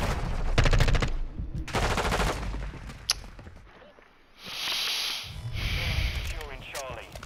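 Bursts of automatic gunfire in Call of Duty Modern Warfare II, loud rapid rattling volleys with short gaps, followed by hissing, whooshing battlefield effects.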